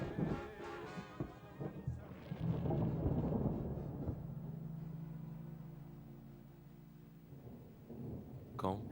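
A thunderstorm in 1939 France, with deep rolling thunder swelling and fading over a steady wash of rain, loud at first then settling into a low sustained rumble, a sharp crack close by at the end.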